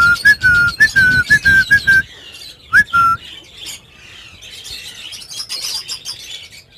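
Lovebirds in a breeding cage give loud, close, repeated whistling chirps in quick bursts, then softer scattered calls and chatter.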